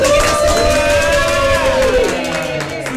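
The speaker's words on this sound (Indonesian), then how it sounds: "Boleh dong kasih tepuk tangan dulu untuk kita semua." Audience clapping and cheering at a dramatic reading of "Mbang Mbako" during a literacy festival stage show, a loud dense crowd roar with whoops that holds steady and then eases slightly toward the end.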